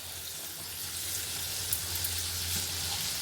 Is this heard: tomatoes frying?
yes